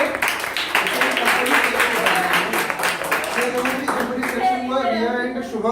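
A class at an interview preparation institute gives a round of applause for two students, a steady patter of clapping from the room with a voice talking over it near the end.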